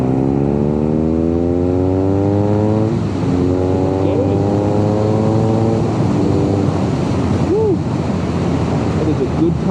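A BMW R nineT boxer-twin motorcycle riding over gravel, its engine droning loud and steady with shifting rev tones, wind rush and crunching road noise throughout.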